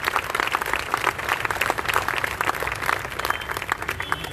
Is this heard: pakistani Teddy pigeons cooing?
no